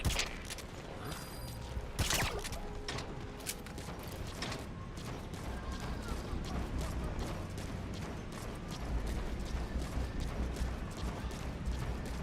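Gunfire rings out in Metal Gear Solid V: The Phantom Pain, with sharp, scattered shots and bursts among mechanical clicks and rattles over a low, rumbling game background, lasting about twelve seconds.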